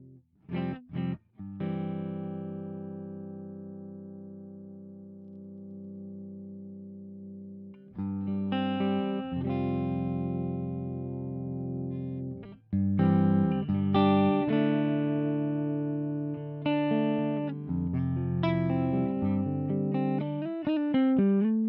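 A clean electric guitar tone through an Axe FX amp modeler set to an ODS 100 clean amp and a 57 cab, playing plucked notes and then ringing, sustained chords, clear and close with no talking.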